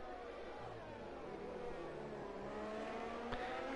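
Sauber Formula 1 car racing around the Mexican Grand Prix circuit in a video game, a steady layered engine whine with shifting pitch, faint and somewhat distant, with a brief sharp click near the end.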